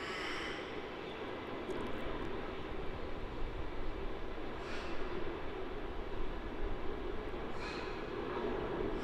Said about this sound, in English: on screen now we have the next milk run, VA833 off to Sydney, another 737-800